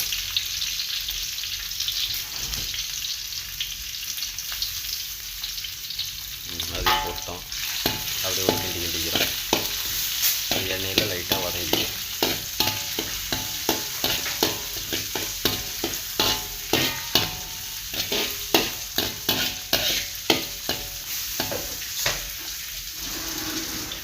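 Crushed ginger and garlic fry in a pan for a simple spice-free kuzhambu, a constant close sizzle broken by repeated rhythmic stirring scrapes that grow busier through the second half.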